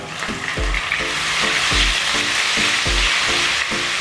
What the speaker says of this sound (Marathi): आपल्या मिरच्या फ्राय होत आहेत ना या स्टेजवर पाहू शकता तुम्ही इथे अद्रक आणि लसूणची पेस्ट आहे ही घालूया